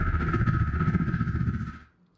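A rubbed balloon processed with reverb and compression gives a dense, steady squeaky rubbing texture with a strong sustained tone, loud and continuous for nearly two seconds before cutting off into a short fading tail.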